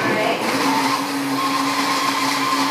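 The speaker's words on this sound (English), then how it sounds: "And we have all of our ingredients in the blender." A KitchenAid blender purees a fruit smoothie, giving a loud, steady motor whine with a constant pitch from start to finish and no speech over it.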